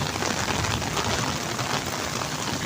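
Heavy rain pouring steadily in a Pakistani village, a dense, even roar of falling water with no breaks, loud and close, heard alone.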